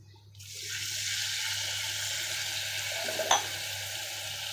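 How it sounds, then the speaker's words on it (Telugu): Water is poured into frying masala for a makhana and cashew masala curry. A sudden loud sizzling hiss bursts up, then settles into a steady bubbling fizz with a small clink near the end. "అది కొంచెం ఫ్రై అయ్యేటప్పుడు కొంచెం వాటర్ యాడ్ చేయాలి"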